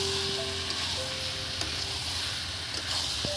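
Handi mutton sizzles and fries steadily in a pan while being stirred, giving a continuous close hiss with occasional scraping touches and no talk.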